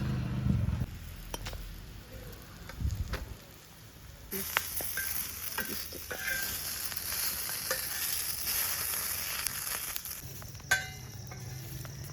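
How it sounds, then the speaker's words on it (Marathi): Green chillies roast on a griddle pan over a village wood-fired stove, starting quietly with clinks and rising into a steady close sizzle with occasional taps. "मिरच्या तिथंच आहे ना भाजायला, मग ती भाजून घेतली त्याच तव्यात तवर"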